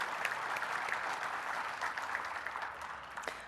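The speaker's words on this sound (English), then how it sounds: "I'd ask you to please give them a round of applause." An audience at a TransLink annual general meeting applauds the elected officials, a steady round of crowd clapping, moderately loud, with no talk over it.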